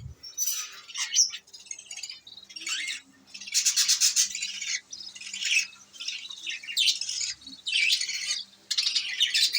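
Budgerigars kept by a breeder chirp and chatter in bursts, a busy, fairly close flock twittering and squawking almost continuously with short pauses, no talking.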